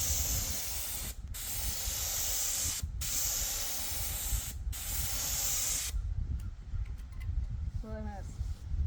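Bursts of spray paint hiss loudly over rumbling wind noise while a Ford 460 engine is painted, broken by short pauses. The spraying then stops and a faint voice is heard.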